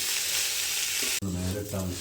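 Rice fries in a pot for Thalassery biryani, a loud, continuous sizzle briefly cut off then resuming with a lower hum beneath the crackle.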